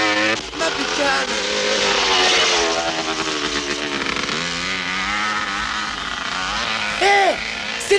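A motorcycle revs and pulls away close by, its engine note rising and climbing in pitch over eight seconds, loud and steady, with a shouting voice cutting in near the end.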